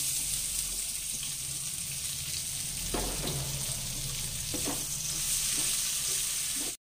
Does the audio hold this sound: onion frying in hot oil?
yes